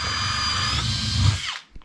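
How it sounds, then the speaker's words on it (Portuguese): A power drill runs steadily with a bent bit that wobbles, its whine holding close and loud before winding down abruptly at the end, with no talk. "A broca tá querendo pular, parece."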